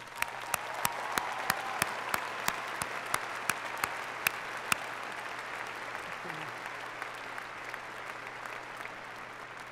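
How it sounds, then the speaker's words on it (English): Large commencement crowd at an NC State spring graduation applauding graduates' families, sustained clapping in a big open space, with sharp individual claps standing out near the front, easing off toward the end. "let's give them a round of applause right now"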